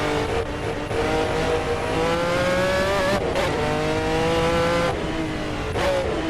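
A race car engine at Brands Hatch in Assetto Corsa roars loud and close, rising in pitch through each gear and dropping sharply at the shifts, with repeated throttle lifts and strong revving throughout.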